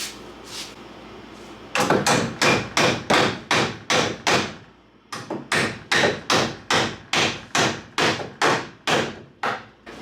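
Steady rhythmic hammer taps on wood, about twenty sharp knocks in quick succession with a brief pause midway, close and fairly loud.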